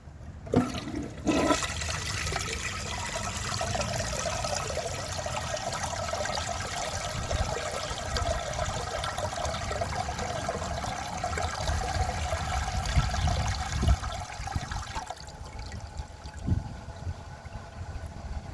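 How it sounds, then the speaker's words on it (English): A 1993 Kilgore Aladdin toilet with a clogged siphon jet flushes in one long, loud rush of swirling water that keeps churning for many seconds, then drops to a quieter trickle as the tank refills. "let's see how it flushes with a clogged siphon jet"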